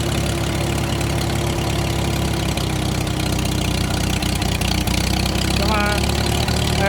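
A Farmall H tractor engine runs close by at a steady loud idle, its low rumble and rhythmic chugging filling the whole stretch with no letup.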